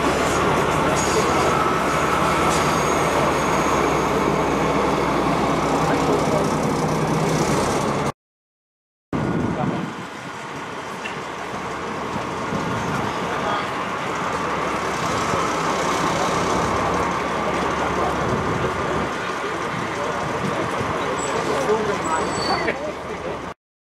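DB class 218 diesel locomotive 218 105 at a summer festival at the Koblenz-Lützel railway museum, a loud, steady rail rumble and drone that cuts out briefly and then resumes, with a voice speaking over it.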